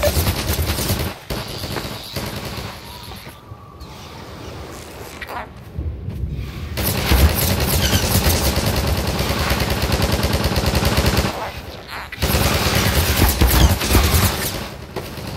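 Enemy gunfire in Half-Life 2 comes as sustained automatic bursts and loud shots crashing almost nonstop, with a few brief lulls between volleys and a little talk mixed in.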